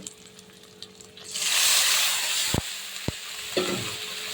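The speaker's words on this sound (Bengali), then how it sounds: "নেড়ে চেড়ে আমি এবার ঝোল দিয়ে দেবো। আমি দিয়ে দিচ্ছি ঝোল" Egg curry stirred in a pan with a few sharp spoon knocks, then a surge of loud hissing sizzle as broth is poured in, settling into steady bubbling, close up and without talk.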